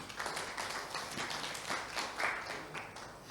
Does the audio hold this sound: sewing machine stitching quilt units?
no